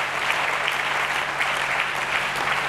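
A church congregation applauding during a sermon, dense steady clapping from many hands filling the room without a break.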